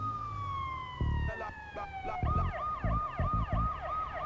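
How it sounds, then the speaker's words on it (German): A wailing ambulance siren in the Watch Dogs video game, sweeping tones that shift into a fast yelp pattern, with heavy low thumps and rumble beneath and no talk. "Naja, ist nur Krankenwagen."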